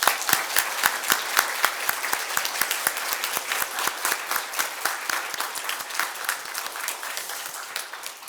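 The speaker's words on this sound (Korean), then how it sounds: "우리 하나님 앞에 크게 진심으로 최대로 영광의 박수를 돌리겠습니다." A church congregation at a Sunday Christmas service breaks into loud, sustained applause, a dense wash of many hands clapping steadily for several seconds.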